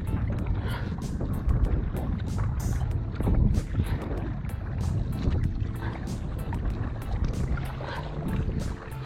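A Stealth Fusion 480 kayak pushes up against a modest river current, with irregular splashes and paddle strokes over a rushing water and wind-buffeted background, moderately close.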